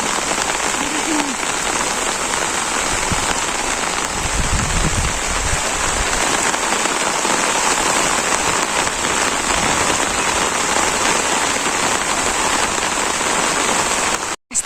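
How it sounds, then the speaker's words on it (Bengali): Heavy rain pours down steadily and loudly on a village where a family is bringing in the rice harvest, a dense unbroken roar lasting the whole stretch with no talk. "আমরা অপেক্ষা করতেছি দেখি বৃষ্টিটা কমে নাকি"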